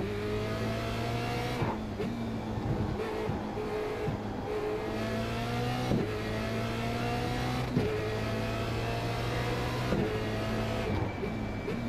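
A Formula Renault 2.0 race car laps the Montreal Gilles Villeneuve circuit in the iRacing simulator. The engine screams steadily with rising revs and quick, regular gear shifts, loud and continuous throughout.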